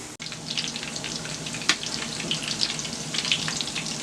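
Salted plantain slices fry in hot oil, giving a steady, close crackling sizzle with scattered pops and one sharp snap, and no voices.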